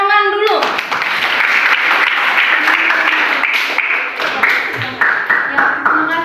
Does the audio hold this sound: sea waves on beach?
no